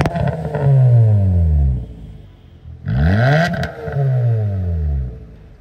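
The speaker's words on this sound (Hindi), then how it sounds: "वैल्ट्रॉनिक ऑन करने के बाद एग्जॉस्ट काफी लाउड हो जाता है।" A Hyundai i20 Sportz with a 1.2-litre petrol engine and a custom valvetronic exhaust, valve open, revs loudly in three close, rising-and-falling bursts, each ending with crackles.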